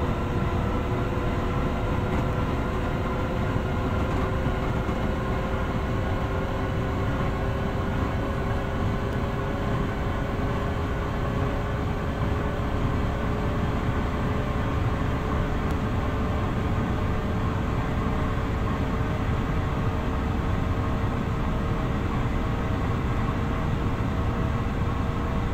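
A Long Island Rail Road train in the Train Sim World game runs steadily along flat track at speed, with a continuous loud rumbling drone and rising tonal whine holding throughout, no talk.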